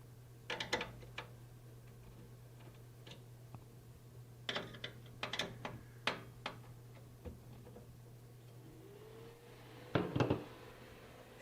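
Screws on the back of an Asus ROG Strix Helios PC case are loosened, making small clustered metallic ticks and clicks up close over a steady low hum, ending in a brief louder scrape.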